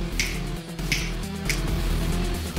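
Three crisp finger snaps ring out in quick succession over a low music bed, each a sharp close click.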